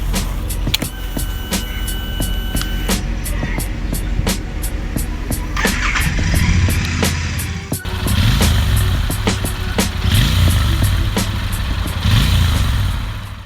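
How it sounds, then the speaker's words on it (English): A Royal Enfield Interceptor 650 parallel-twin motorcycle engine rumbles steadily at idle, loud and close, with a brief blip of revs partway through. "the engine settles to a melodious rumble"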